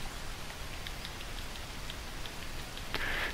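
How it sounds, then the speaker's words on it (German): Steady rainfall in the Green Hell jungle survival game, a dense, even hiss of drops that runs throughout and thickens briefly near the end, with no talking. "solange es regnet"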